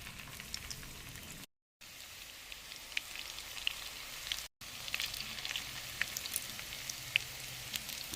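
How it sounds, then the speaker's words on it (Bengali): Fish roe sizzling in hot oil in round portions: a steady crackling hiss with scattered sharp pops, broken by two brief silent gaps. "তেলটা গরম হয়ে গেছে এখন আমি ডিমগুলোকে তেলের মধ্যে গোল গোল আকারে দিয়ে দেবো"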